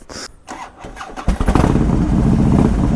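A motorcycle engine cranks briefly, then fires up and settles into a loud, rumbling idle close by.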